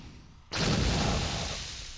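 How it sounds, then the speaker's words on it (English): Machine gun fire in the Flash game Merlin's Revenge 2 starts abruptly after a quiet half second as a loud, dense, sustained burst that slowly fades over the next second and a half, with no voices. "Break out my machine gun and kick his ass."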